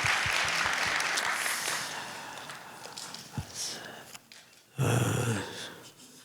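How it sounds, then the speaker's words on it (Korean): A church congregation at a New Year's Eve worship service applauds to welcome guests, a broad wash of clapping that fades over a couple of seconds, followed by scattered thumps and a louder burst of crowd noise near the end. "우리 한번 박수로 환영했으면"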